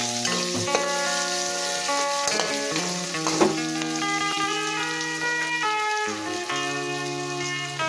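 Garlic and onion sauté in a pan for chop suey with a steady, close sizzle, partly covered by continuous melodic background music throughout.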